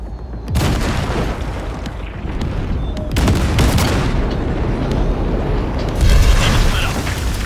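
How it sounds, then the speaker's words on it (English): An explosion blowing open a gate in Cyberpunk 2077, deep booming blasts that erupt after a brief pause, followed by rolling rumble and debris noise, with further heavy bursts recurring, loud and close. "there's a monster gate that needs to be blown open"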